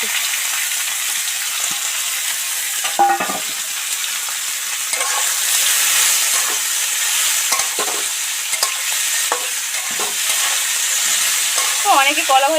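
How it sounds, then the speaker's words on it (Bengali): Pieces of plantain, potato and tomato sizzle in hot oil with fried ginger, a loud continuous crackle broken by spatula stirs and scrapes against the pan. "তেলের মধ্যে আদা দিয়ে ভেজে নিলাম এবার এর মধ্যে এই কলা আলু আর টমেটো টুকরো কটা উঠিয়ে দেবো"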